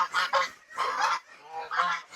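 Geese honk in loud, close bursts, several overlapping calls in quick succession with brief pauses between, heard alone without any talking.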